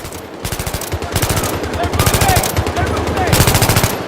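Sustained automatic gunfire in Battlefield 3, loud and close with rapid rhythmic bursts, layered with battle noise and a voice shouting in the background.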